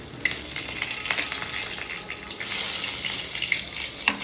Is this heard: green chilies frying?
yes